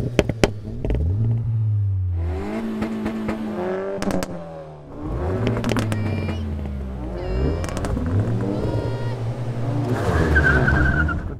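Several hot hatchbacks, among them a Civic Type R, Cupra R, i30N, Megane RS and 308 GTi, accelerate hard in an airfield drag race, with loud engines climbing through repeated gear changes and a tyre squeal near the end.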